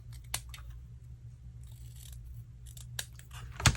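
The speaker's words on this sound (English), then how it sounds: "I take my scissors and I'm going to cut kind of a pretty little angle on them" Scissors snip off the angled ends of ribbon on a handmade Halloween bookmark, giving a few sharp, close cuts spaced irregularly over low background hum, with a louder final snip.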